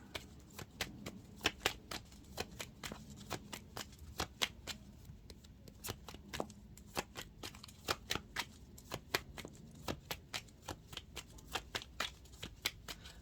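A deck of tarot cards being shuffled by hand, with steady rapid riffling and snapping clicks repeating close up for over ten seconds, no voices.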